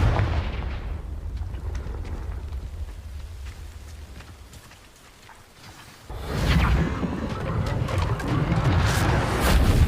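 Confringo blast spells firing and exploding in the Hogwarts Legacy video game, a loud burst of booming impacts and whooshes that fades to a quieter lull before another dense round of blasts erupts.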